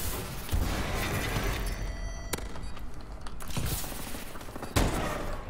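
Rapid gunfire bursts from a first-person shooter video game crack loudly and up close, with several sharp shots standing out over a dense, continuous clatter of firing.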